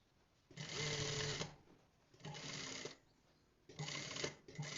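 Sewing machine stitching a trouser crotch seam in three quick bursts, each about a second long with short pauses between, close and fairly quiet.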